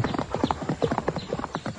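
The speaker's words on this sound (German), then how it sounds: "Fast aus dem Stand jagt King Jack los." Galloping horse as a radio-drama sound effect, rapid hoofbeats in a quick rhythm with a brief whinny partway through, close and loud, no talking.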